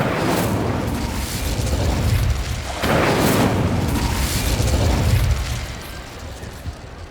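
An Incendio fire spell cast in the Hogwarts Legacy video game, heavy whooshing fiery bursts with low booming rumbles, loud and repeated about three times before fading near the end.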